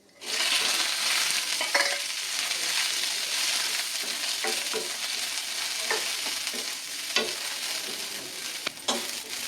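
Broad beans and urad dal lentils sautéing in a pan, a steady close sizzle with intermittent scrapes and clicks of a spoon stirring, no voices.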